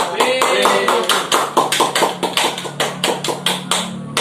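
Students in a classroom micro-teaching session clap in a quick, uneven rhythm of sharp, close hand claps, a small group rather than a crowd, with voices talking underneath.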